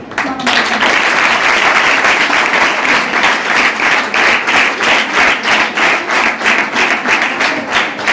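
Students at a Dwarapudi high school programme clap together to welcome a guest from a Manavata service organisation, a dense, steady round of applause lasting several seconds, close and loud, with a faint voice under it at the start.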